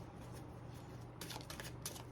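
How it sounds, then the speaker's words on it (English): Tarot cards are shuffled close by in a quiet room, a soft continuous riffle and slide with denser flicking bursts in the second half, no voices. "But we're going to shuffle these cards."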